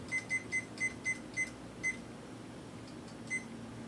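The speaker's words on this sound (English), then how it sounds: "So I'm going to set the timer" A kitchen timer is set for pasta, giving a run of sharp, evenly spaced electronic beeps, then a pause and one last beep, loud and close over a low background hum.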